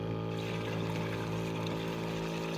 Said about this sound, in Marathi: कशा प्रकारे आपण ड्रिपचं सिस्टीम चालू केलेलं आहे बघा मित्रांनो ही आपला पंप आहे